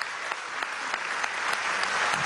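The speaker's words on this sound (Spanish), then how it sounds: "Qué aplauso." An audience at a Carnet de la Patria anniversary event breaks into applause, a dense patter of many clapping hands that swells slightly and holds steady for a couple of seconds, heard at moderate distance.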